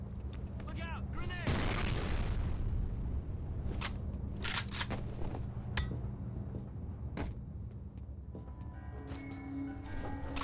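In the Xbox 360 version of the video game F.E.A.R., a grenade goes off with a loud, close blast, followed by scattered sharp gunshots and mechanical clicks, with faint voices in the mix.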